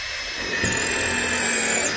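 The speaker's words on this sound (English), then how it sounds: "So what you got to do is you have to drill the pilot hole." A power drill bores a pilot hole into old, dry rimu timber, a steady whirring grind that rises and holds for a couple of seconds, close and fairly loud.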